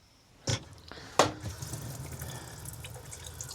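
A tap in a camper is turned on, with two sharp splashes and knocks followed by a steady soft stream of running water close by.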